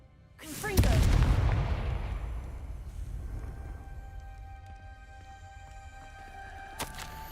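A Confringo blasting-curse explosion goes off in a Harry Potter video game: a sudden loud boom that swells into a long, rumbling roar and slowly fades, with a faint sharp crack near the end.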